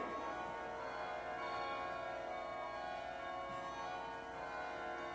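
Steady ringing of the Rockefeller Carillon's tuned bells sustains throughout, overlapping tones blending into a continuous resonant chime with no pauses.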